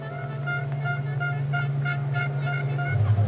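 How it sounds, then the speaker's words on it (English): Fans in the grandstand at a truck race at the Slovakia Ring sound air horns, a steady tonal blare under continuous low engine and crowd rumble, with short repeated toots pulsing through. "You can hear the horns being sounded in the grandstand there as the fans enjoy themselves."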